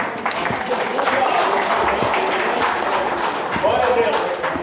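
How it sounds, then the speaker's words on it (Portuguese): A church congregation at a couples' worship service applauds steadily for several seconds, with voices audible within the clapping. "Vamos aplaudir, não?"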